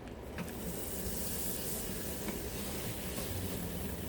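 A spoonful of butter sizzles in a hot pan, a steady close crackling hiss with light scraping of stirring throughout.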